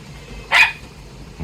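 A single sharp dog bark rings out once from an outdoor enclosure on a stormy, windy day, loud and brief against steady low wind rumble.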